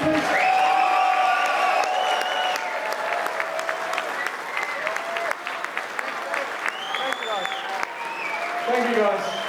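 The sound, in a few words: audience applauding and cheering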